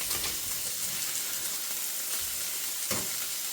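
Steady crackling sizzle of burgers frying in a hot pan with onion and garlic, close and continuous, with a brief scrape or clatter near the end.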